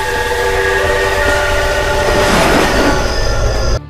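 A train rushes past in the horror video game Death Park, a loud, steady rumbling roar with a sustained horn tone that cuts off abruptly at the end.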